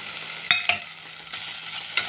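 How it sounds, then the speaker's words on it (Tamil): Green chili and grated coconut sauté in a pan for tomato pulao. A soft, steady sizzle runs throughout, with a few sharp spoon scrapes and taps close by and no talking. "லேசாக வதக்கிட்டு தேங்காய் பூ போட்டுருங்க"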